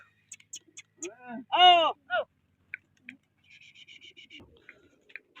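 Pigeons coo nearby in short throaty bursts, with a few sharp chirps and scattered small bird calls around them.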